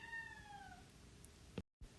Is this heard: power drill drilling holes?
no